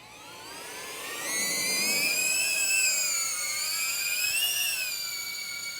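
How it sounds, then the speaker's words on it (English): A small-propeller FPV drone buzzes in a loud, high-pitched whine that rises as it lifts off and wavers in pitch as it flies nearby. "One thing I don't like about this drone is how obnoxiously noisy it is"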